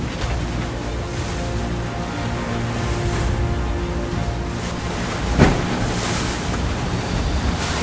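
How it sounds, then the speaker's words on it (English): Ocean waves around six feet high slap against a sailboat on an overnight offshore passage from St. Augustine to Port St. Lucie, Florida, a constant loud wash with heavy wind noise and one sharper hit midway, no talk. "we went from pretty calm to now we've got 6-foot waves right here"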